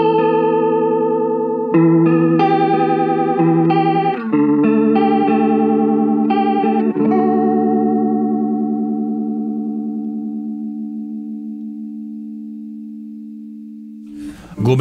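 Electric guitar played through a Way Huge Blue Hippo chorus pedal: a short run of sustained notes and chords with a shimmering, wavering chorus tone, the last chord ringing out and slowly fading before a brief burst of noise at the end.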